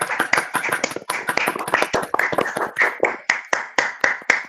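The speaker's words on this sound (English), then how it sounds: "So nice, this online applause" Clapping close to the microphone during an online hackathon results announcement, a handful of hands giving sharp, separate claps that slow into a steady, evenly spaced beat.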